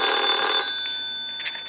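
The bell of a Kellogg telephone resting on a towel rings briefly, slightly muffled, then stops, followed by faint clinking and handling noises.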